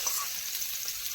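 Hot tempering hits a chutney served with Mysore bonda, giving a brief, close, steady sizzle with a small flare of crackle at the end.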